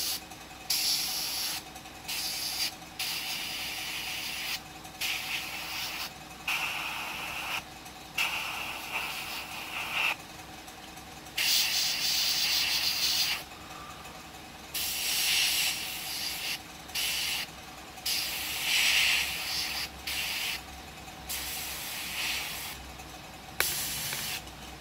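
SMS olive and duck egg green paint is sprayed from an airbrush in repeated short bursts, a close airy hiss that starts and stops in a choppy rhythm with pauses between passes.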